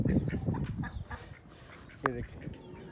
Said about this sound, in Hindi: इस वाले से कैसे एंजॉय कर रही है हमारी बतखें।